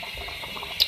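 Water bubbles in a pot while aloo matar egg salan, an egg curry, cooks: a brief, soft burble of small pops close by, with one slightly louder bubble at the end.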